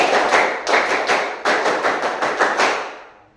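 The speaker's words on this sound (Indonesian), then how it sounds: "tepuk pramuka." A group of scout children performs the rhythmic scout clap, tepuk pramuka, in a classroom: loud, close bursts of claps in a quick patterned sequence, with two short pauses between rounds.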